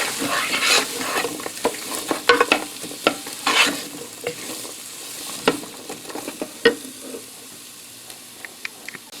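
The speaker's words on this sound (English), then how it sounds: "Sizzle a little bit" Vegetables sizzle steadily in a hot pan, with repeated scraping and stirring clicks over the constant frying hiss, before garlic is added.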